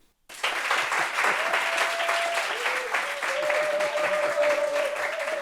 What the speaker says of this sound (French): Si vous êtes d'accord avec moi, applaudissez.